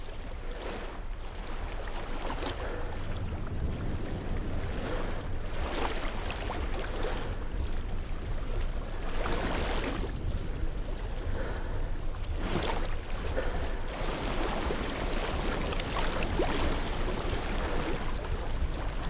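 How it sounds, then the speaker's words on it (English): Water rushes and laps continuously in Hellblade: Senua's Sacrifice, a steady wash of flowing stream and small waves with periodic swells of surf, moderately loud throughout and with no talking. "I hear water."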